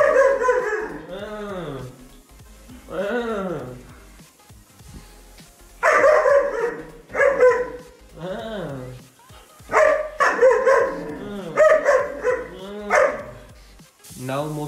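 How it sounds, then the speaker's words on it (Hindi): A dog indoors in a hall barks at its own reflection in a mirror, giving a long run of close, loud, tonal barks and whines with little pause. "ये देखो, ये खुद को भौंक रहा है।"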